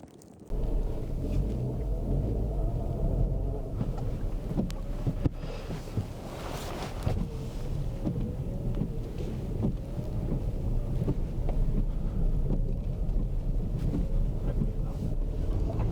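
Wind roars through a snowstorm on a snowy, foggy winter road trip in Norway, a steady low rumbling gust buffeting the microphone for the whole stretch, with no voices.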